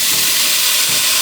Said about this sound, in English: Add some white wine, Manny, to risotto.